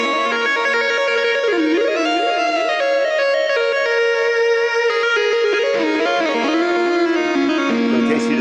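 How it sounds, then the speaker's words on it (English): Sliding blues-scale lead played by a finger gliding across the GeoShred app's touch surface, with continuous bending pitch sweeps and held notes sounding loud and steady throughout. "So if you just slide your finger across the playing surface,"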